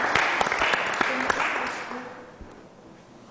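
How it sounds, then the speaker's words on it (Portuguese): An audience applauds Professor Donato after an interview session, the clapping loud at first and then fading out, with faint voices and clatter behind it. "vamos aplaudir o professor Donato!"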